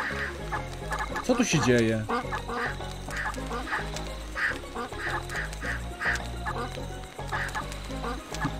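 Cartoon geese honk and cackle in a Reksio adventure game, a busy overlapping cluster of squawks rising near the start and repeating through the scene over game music, with a voice speaking briefly.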